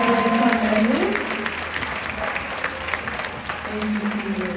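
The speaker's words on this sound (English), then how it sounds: "give one more big round of applause for all the seniors that are up here on the stage" A school band awards night audience gives a big round of applause for the seniors on stage, steady loud clapping and crowd noise throughout, with some cheering voices mixed in.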